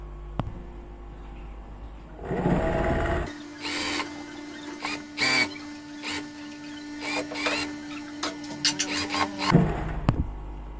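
A sewing machine runs in short bursts of stitching along a fabric neck band facing, with a steady hum, pauses between runs and near, fairly loud rattling passes.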